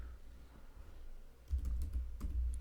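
Keystrokes on a computer keyboard while typing Python code, a faint patter at first that turns into a closer, louder run of quick taps in the second half.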